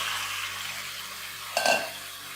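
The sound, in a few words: potatoes added to frying onions in oil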